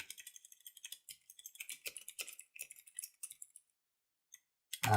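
Computer keyboard keys clatter in quick irregular bursts of light clicks, fairly faint and close, then stop abruptly before a loud thump at the end.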